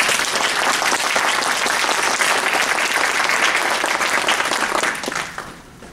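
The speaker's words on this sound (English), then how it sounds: "I think we all deserve to give you a round of applause" A crowd at a fall graduation ceremony for non-traditional students applauds loudly and continuously, a dense roar of clapping that holds steady and then fades out over the last second.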